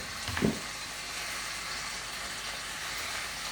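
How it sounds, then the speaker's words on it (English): Grated potato rösti hits hot oil in a pan with a brief thump, then a steady, close sizzling hiss continues evenly. "Now I'm going to put the Rösti inside the pan."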